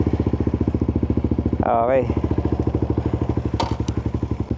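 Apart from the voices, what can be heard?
Suzuki GSX-R150 motorcycle being test ridden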